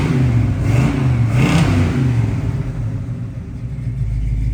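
A 1966 Chevrolet Chevelle SS engine revs up loud and close, rising and falling in two surges before settling into a rough, rumbling idle.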